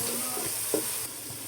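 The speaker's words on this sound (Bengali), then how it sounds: "ইটা শুটকিগুলো ভালো করে ভেজে নেব।" Dried ita shutki fish frying in a pan makes a short, steady sizzle with a stirring scrape in the middle.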